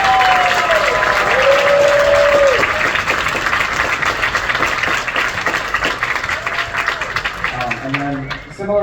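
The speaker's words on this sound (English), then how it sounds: "a huge round of applause, please, for both Dipper and Roki this year" An audience claps and applauds at a convention closing ceremony, dense and sustained across the room, with a voice speaking over it near the start and again at the end.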